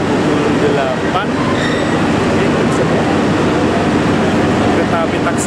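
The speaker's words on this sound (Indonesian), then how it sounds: "Kereta api Taksaka mulai diberangkatkan" The Taksaka passenger train departs a station in Indonesia, a loud continuous rumble of rolling cars with faint wheel squeals and clatter, close by, with a voice faintly present.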